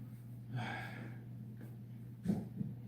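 A man breathes heavily at home after a set of 20 dips, with two audible gasping exhales separated by quieter panting.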